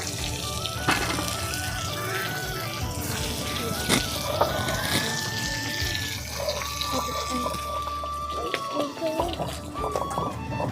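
Lentil dumplings (bori) fry in oil in a pan, a steady close crackling sizzle running throughout with faint clatter, while a person talks over it.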